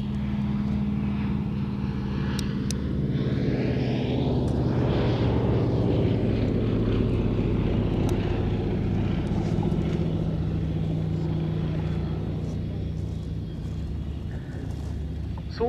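Fairey Swordfish biplane at Cosford Airshow, its propeller engine droning steadily as it passes, swelling and fading with a Doppler sweep over a continuous loud rumble.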